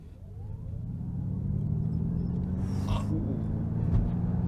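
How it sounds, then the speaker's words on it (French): A Ford Mustang Mach-E electric car accelerates from 0 to 100 with a low, steady rumbling hum that builds gradually, with a faint rising whine and a brief airy gasp midway. "j'adore ce petit bruit moteur là"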